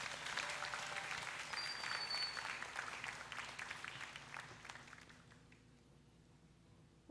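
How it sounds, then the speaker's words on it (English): Graduating students at a secondary school graduation ceremony applaud together, a full burst of clapping from a crowd indoors that holds steady, then thins and fades out over the last couple of seconds. "Can we pause and give ourselves a round of applause"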